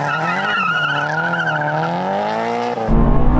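A Honda S2000 engine screams at high revs during a drag race, its pitch climbing and wavering as VTEC engages, loud and close, then cutting abruptly into a rougher blast near the end.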